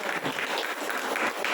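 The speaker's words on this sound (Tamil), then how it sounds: "கைத்தட்டல்" An audience at a Kamban Kazhagam office-bearers' installation ceremony in Krishnagiri claps steadily in a brief, even burst of applause.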